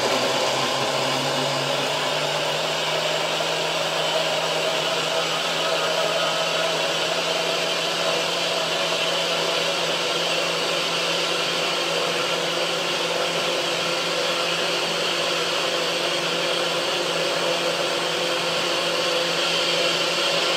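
A blender running steadily at high speed while breaking down ingredients for a plant-based potato salad or cookie recipe, a loud continuous motorized whir that fills the whole stretch with no talking.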